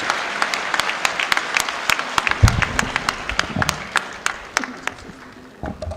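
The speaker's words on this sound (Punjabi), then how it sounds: "ਜ਼ੋਰਦਾਰ ਤਾੜੀਆਂ ਨਾਲ ਸਵਾਗਤ ਕੀਤਾ" Sustained, dense applause from a large crowd welcoming Punjab Chief Minister Bhagwant Mann at a college event in Faridkot, steady throughout with scattered sharper claps and no talk.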